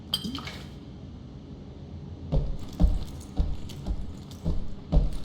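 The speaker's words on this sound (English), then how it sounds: "Looks like a wine glass." A wine glass picked up in a video game, giving a few light clinks and taps at irregular intervals over a quiet background.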